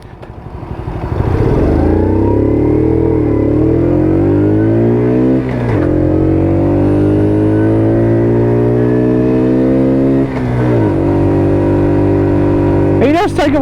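A small 50cc WK Colt motorbike engine drones steadily up close for most of the clip, its pitch rising and falling as it pulls along, with a couple of brief dips where the note drops away.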